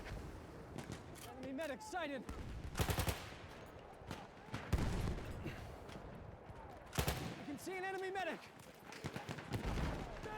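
Automatic gunfire and explosions from the video game Battlefield 1 come in loud bursts separated by quieter gaps, with a player's voice heard between the volleys.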